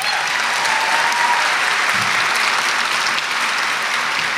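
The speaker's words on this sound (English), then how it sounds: "Let's give Kate Ferguson and the Color Guard another round of applause." A commencement audience at LCC applauds the color guard, thick, continuous clapping from a large crowd filling the space at a steady level throughout.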